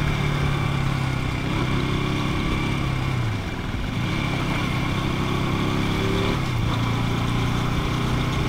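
KTM RC 200 motorcycle engine while riding, a continuous loud drone with an annoying whine, pitch dipping and rising as speed changes, no talk over it.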